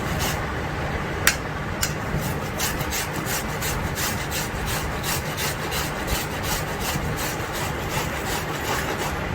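Raw Totapuri mangoes, peeled, rubbed back and forth on a grater in a steady scraping rhythm, a continuous rasping texture with repeated strokes and no talking.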